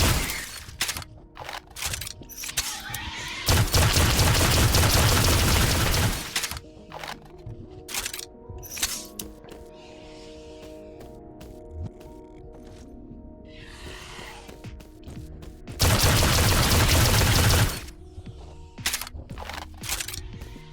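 Pistol and machine gun fire in the VR space extraction shooter Astro Hunter: sharp single shots scattered throughout, broken by two loud sustained bursts of rapid automatic fire lasting a couple of seconds each.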